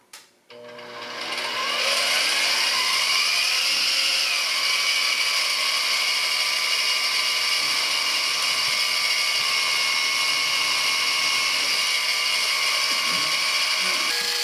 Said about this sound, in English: And now to drill out all four holes, starting at 1/8 inch.